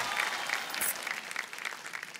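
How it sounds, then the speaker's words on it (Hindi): A studio audience on the KBC quiz show claps in a steady, sustained round of applause that tapers slightly toward the end. "ताली बज जाए इनके लिए।"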